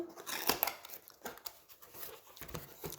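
Packaging of a 70 by 70 square-drill diamond painting kit is torn and snipped open, with sharp crinkling plastic, tearing and cutting sounds in irregular close bursts, fairly quiet overall.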